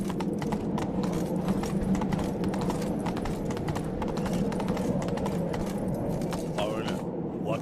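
Roach the horse galloping in The Witcher 3, a steady rapid clip-clop of hooves running throughout, loud and close, with game dialogue and background sounds mixed in.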